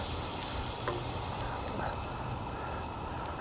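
Chopped onions and tasso sautéing in a pan, a loud, steady crackling sizzle that runs unbroken throughout with faint stirring touches underneath.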